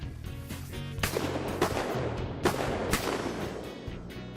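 Shotgun blasts on a duck hunt in Tunica County, Mississippi: four or five loud, sharp reports spaced about half a second apart, fired close by outdoors.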